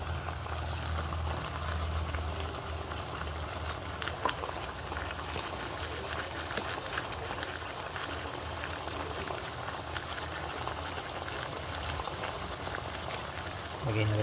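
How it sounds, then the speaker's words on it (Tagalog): Soy sauce bubbles and simmers steadily in a pan, a continuous close crackling hiss with no pauses. "habang kumukulo po yung toyo, lagyan na po natin ng paminta."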